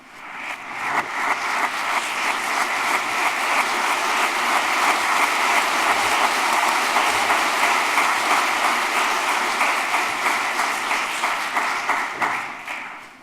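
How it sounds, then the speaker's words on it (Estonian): Sustained audience applause at an IT College graduation ceremony, a thick, even roar of many hands that swells in, holds steady for over ten seconds, then tapers, with no talk over it. "Teeme ühe marulise aplausi sellele hitsale"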